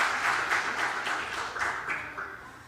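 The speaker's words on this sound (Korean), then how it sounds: "따뜻하게 박수로 환영해 주시기 바랍니다." A church congregation claps warmly during a Sunday worship service, a steady wash of hand claps rising and fading in soft waves, fairly distant and alone.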